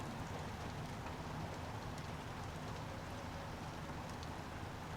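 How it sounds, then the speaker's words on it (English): Steady rain drums on the roof of a camper van parked in a busy town centre, a dense, even patter that continues unbroken throughout, close and fairly soft, with no voices. "We got some ambient rain noise. Yep, it's raining outside."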